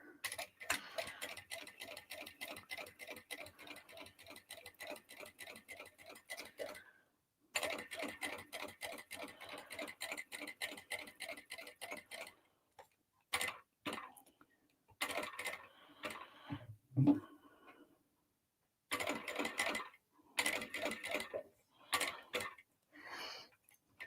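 A sewing machine stitches around a dolly bag in a series of bursts: rapid, even ticking runs of a few seconds each, separated by short pauses, heard close with no talking.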